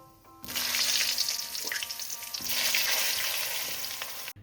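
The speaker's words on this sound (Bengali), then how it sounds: "এবার আমি বেগুনটা দিয়ে ভেজে তুলে নেব" Eggplant seasoned with salt and turmeric hitting hot oil, a loud dense sizzle that flares up abruptly and holds steady for a few seconds before cutting off.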